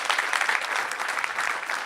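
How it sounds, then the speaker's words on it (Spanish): A crowd at a World Youth Day DC 2019 panel session applauds the panelists with a dense, steady burst of clapping that stays strong for the whole two seconds. "un aplauso nuevamente fuerte para todos nuestros panelistas"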